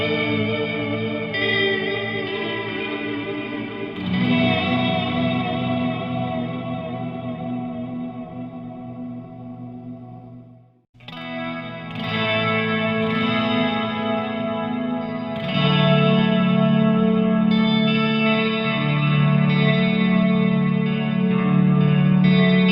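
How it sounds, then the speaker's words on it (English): Walrus Audio Slo reverb pedal on an electric guitar, sustained chords washing into long lush tails with chorus-like shimmer, fading almost to silence midway before swelling again, played alone without talk. "as you can hear, the reverb does sound great."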